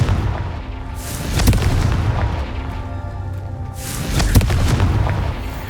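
Two heavy booming blasts from a Confringo fire spell in Hogwarts Legacy, each a deep explosive thump with a rumbling tail, spaced a few seconds apart over a low ambient background.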